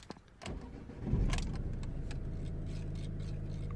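A Mazda 3 1.6 diesel with DPF additive faults is started up close: a few sharp key clicks, then the engine cranks and catches before settling into a steady idle.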